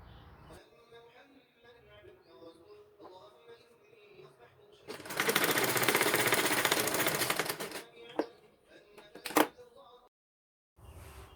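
An electric sewing machine runs a quick burst of stitching along the double-folded hem of a cotton petticoat, a dense close whir lasting a few seconds between quieter handling noises and a voice.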